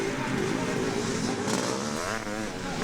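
Motocross bikes racing at Farleigh Castle in a veterans' event, including an RM Suzuki, with two-stroke engines buzzing and revving past under a commentator's voice, some rising engine notes toward the end.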